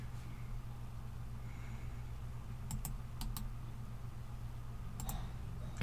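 Soft computer keyboard clicks, a few scattered keystrokes in two short clusters, close but quiet over a steady low background hum.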